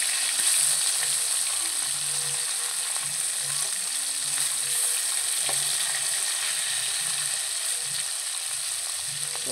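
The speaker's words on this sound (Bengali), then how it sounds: "আর এক উল্টে দেবো এখন" Rohu fish pieces fry in hot oil with a loud, continuous crackling sizzle, and scattered clicks and scrapes come as the pieces are flipped. No one speaks.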